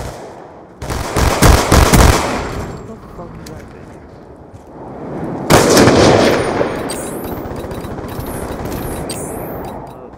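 Rapid bursts of gunfire from the video game Black Ops 2, with a dense volley early on and another later, loud and close, mixed with game effects and people talking over it.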